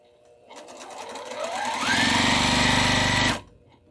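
Sewing machine stitching at 1.8 stitch length, starting slow and ramping up to super speed, then running flat out in a loud steady whir of rapid needle strikes before stopping abruptly.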